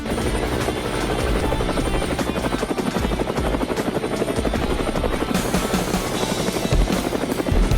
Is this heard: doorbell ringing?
no